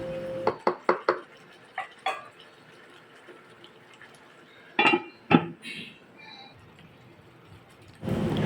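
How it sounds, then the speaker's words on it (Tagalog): Metal utensil clinks and scrapes in a cooking pot as chicken and potatoes are stirred, a few quick taps then scattered knocks, close and sparse, with quiet gaps and a louder rattle at the end. "imimix lang natin at ipakukuluin pa natin para maluto pa yung ating patatas"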